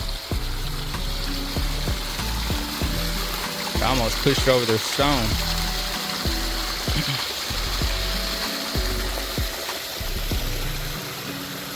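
A heavy flow of water pours through a dam drainage pipe, a continuous close-up rush and burble with scattered splashes and clunks, while someone talks briefly over it.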